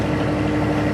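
A sailing boat's engine motors across the Clyde in calm, windless weather, giving a steady low throbbing drone, close and continuous for a brief moment without speech.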